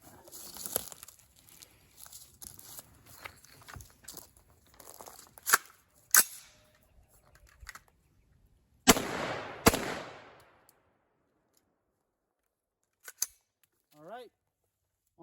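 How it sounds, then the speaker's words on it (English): An AR-15 rifle fires a few sharp, loud shots outdoors, spaced apart with ringing decay between them, amid rustling handling noises and some talk. "we're just going to fire a few shots to show that it's functioning properly"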